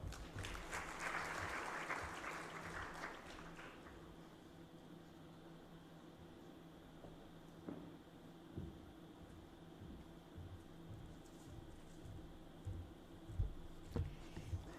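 Audience applause at an award ceremony, a dense burst of clapping that fades out after a few seconds and leaves a quiet, hissing hall with scattered small knocks.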